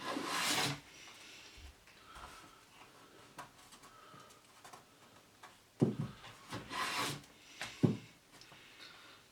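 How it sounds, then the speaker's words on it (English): Strips of white oak edge banding are hand planed to thickness, giving a few separate, moderately soft rasping strokes, one at the start and a cluster near the end, with quiet gaps between them. "I cut the strips of white oak, and using the same thickness plywood, I hand planed them to the exact thickness."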